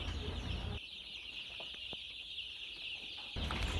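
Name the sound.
chicks of a colored chicken breed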